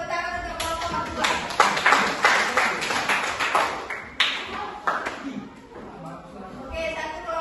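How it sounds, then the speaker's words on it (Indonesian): A class claps for a student group during a school coding lesson, a burst of many hands that rises, stays dense for several seconds, then thins out, with voices mixed underneath. "kasih tepuk tangan untuk kelompok Aqua"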